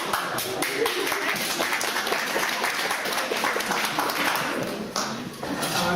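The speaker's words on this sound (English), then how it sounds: "The gallery can hold its applause to the end" A public gallery in a council chamber breaks into applause, a dense spread of many hands clapping steadily, fairly close and lively, dipping briefly before picking up again near the end.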